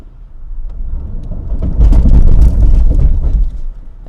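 A Jeep Liberty engine strains off-road in 4 low and first gear, rising to a loud, close, rough roar with heavy rumbling and bumping before it eases off.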